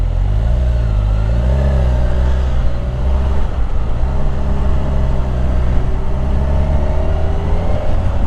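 Steady, loud engine drone of a new Kawasaki Ninja 1000 SX four-cylinder sport-tourer motorcycle at speed, with smooth rising and falling pitch as the revs shift, plus a dip near the middle, under constant wind rush.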